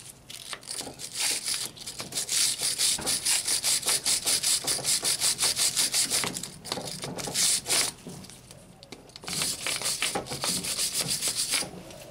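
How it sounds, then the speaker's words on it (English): A wire brush scrubs the brake caliper bosses on the rear brakes of a Lincoln MKX or Ford Edge, making rapid, harsh back-and-forth scratching strokes close by, in several runs with brief pauses. "And just use a wire brush. We'll just make sure all the crap is off of them."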